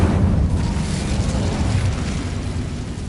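A fire spell bursts in a closed, tomb-like mine in the Hogwarts Legacy video game: a loud, sustained booming roar with rumbling low end that stays heavy for about three seconds.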